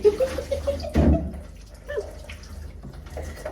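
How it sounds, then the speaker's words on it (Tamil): Black squid ink water being rinsed and poured out in a home kitchen. A sharp splash of liquid stands out among softer trickles and drips, with some faint background sounds. "இப்போ இந்த மைய கழுவி ஊற்றுவோம்"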